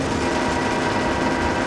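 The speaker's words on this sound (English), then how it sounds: "We're just shooting shit." Steady, dense gunfire from the video game Resident Evil 5, a continuous loud burst of shots running through the whole moment with no pauses and no voices.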